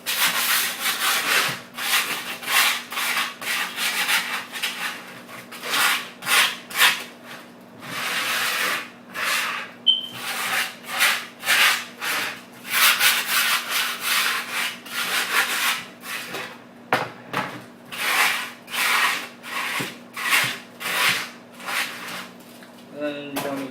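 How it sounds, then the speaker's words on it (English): Rhythmic abrasive scraping as the edges of skateboard grip tape are sanded down against the board, repeated strokes in quick bursts with brief pauses, close and fairly loud. "Just run it along the edges. It's called sanding it down."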